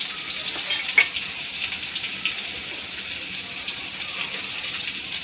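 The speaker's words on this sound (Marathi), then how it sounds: "कांदा थोडा लाल होईपर्यंत असं भाजून घ्या" Onion frying with garlic in a pan gives a steady, even sizzling hiss that runs throughout, with a faint click partway through.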